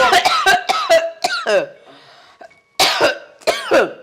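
A single short cough from a woman in the middle of a conversation, set between stretches of close spoken dialogue.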